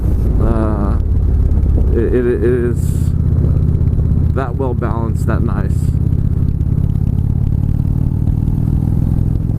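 A 2015 Indian Chieftain motorcycle engine runs steadily with a deep, constant rumble under someone talking throughout, the engine note staying even and loud beneath his voice.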